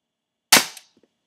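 A single sharp, close crack of an airsoft gun firing, loud and brief with a quick decay and a faint tap or two after.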